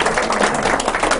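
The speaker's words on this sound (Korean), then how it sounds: "박수, 박수." Brief, dense clapping from an audience at a cultural talk, steady and fairly loud throughout the short burst.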